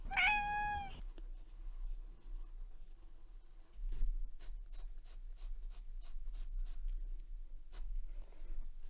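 Soft B pencil shading on paper gives a run of quick, even scratchy strokes. A cat meows once, close by, just before the scribbling begins.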